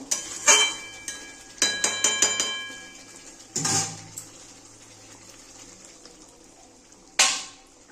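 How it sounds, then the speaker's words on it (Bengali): Water poured into a pan of egg and potato curry, several bursts of splashing and trickling with light clinks of the pan between pours, close and fairly quiet. "এবার আমি জল দিয়ে দেবো।"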